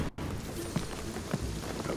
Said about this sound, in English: the rain is gonna flood this place